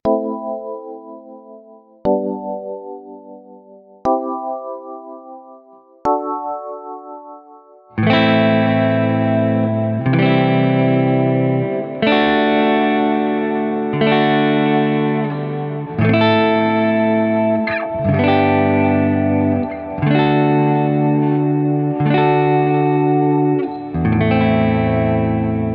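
Chords in A Dorian are played through an effects-laden, distorted tone: four single struck chords ring and decay, then a denser run of sustained chords follows in steady succession, loud and up front with no talking.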